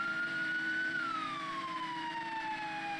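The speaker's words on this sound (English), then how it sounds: "Get our siren on." An emergency vehicle siren in the Roblox game ERLC holds a single steady tone, then slides slowly downward in a long wail, moderately loud over a low engine rumble.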